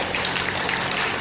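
An audience claps at a political speech at a road inauguration event, a dense steady patter of applause from many hands lasting about a second, loud and continuous with no talk over it.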